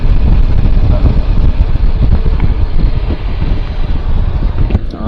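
Loud, steady wind on a hilltop at Maruthamalai temple buffets the microphone with a deep roaring rumble that hardly lets up from start to finish.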